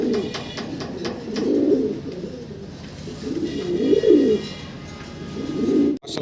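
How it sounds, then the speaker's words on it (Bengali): A pair of fancy pigeons coos steadily, with soft, rolling low calls that rise and fall in repeated phrases, close and fairly loud, with faint chirps from other birds behind and no talk. "ভিডিও শুরু করার থেকে ডাক শুরু এখনও থামাদামি নাই"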